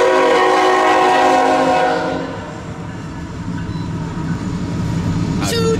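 A long freight train pulled by several engines passes at a crossing in Geneva, Ohio, its horn blaring loudly at first, then giving way to a steady rolling rumble and wheel clatter.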